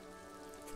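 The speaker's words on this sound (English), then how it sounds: "The rain will not let up anytime soon." Steady rain in the video game Disco Elysium, a constant close hiss of drops falling on surfaces with no talking over it.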